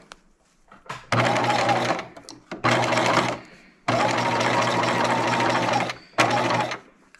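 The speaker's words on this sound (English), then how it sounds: "now we're gonna sew" A sewing machine stitches a gown in four loud, close bursts of fast whirring, separated by brief quiet pauses as the fabric is repositioned.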